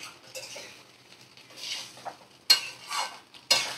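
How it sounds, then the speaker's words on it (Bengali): Vegetables are stirred and mixed in a pan for a spicy home-cooked dish, with soft scraping and a couple of sharp utensil clacks against the pan, close and fairly quiet, with no voices. "তো ভালো করে নাড়াচাড়া করে আমি মিশিয়ে নেব"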